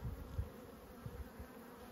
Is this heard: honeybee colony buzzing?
yes